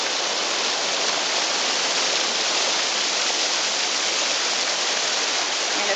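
Small waterfall of ice-cold spring water spilling across a mountain trail above Blue Hole, a steady, full, close splashing rush that holds unchanged from start to finish with no voices.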